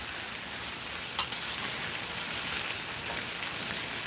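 Greens wilting in olive oil in a hot pan, a steady soft sizzle with a brief clink near the start, no talking.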